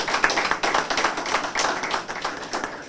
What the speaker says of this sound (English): very serious round of applause.